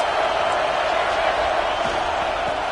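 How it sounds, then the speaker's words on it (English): A college football stadium crowd at Mizzou vs Iowa roars for the defense, a loud, steady wall of cheering that fills the whole stretch without a break. "Listen to this crowd just shaking the girders of this place, trying to help their defense."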